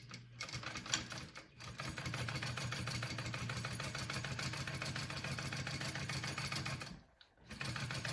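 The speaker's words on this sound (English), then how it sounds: "I'm gonna go ahead and just sew that on real quick" A sewing machine stitches a piece of fabric bag in a fast, steady mechanical whir that runs for several seconds, with brief pauses at the start and a sharp stop near the end, close up and without talk.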